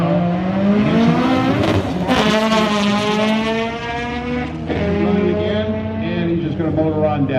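A BMW 3 Series-bodied drag race car at an eighth-mile drag racing event at Irwindale Speedway accelerates hard down the track, its engine note climbing steadily and loud throughout, with a track announcer talking over it.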